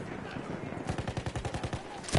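Rapid gunfire from Battlefield 1, They Shall Not Pass DLC, rattles in a quick, evenly spaced burst of about a dozen sharp shots, moderately loud and close, ending in a louder crack.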